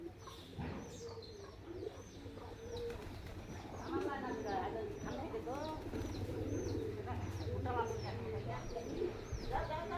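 White domestic pigeons at a village home coo in low, repeated bursts while a hen lingers nearby; a person talks and calls to the birds over them, with occasional wing flaps.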